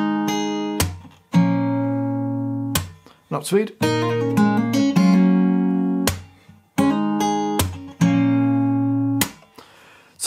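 Fingerstyle acoustic guitar picks out a repeating song intro, with sustained chords punctuated by sharp percussive hits, and a voice briefly speaks over the playing.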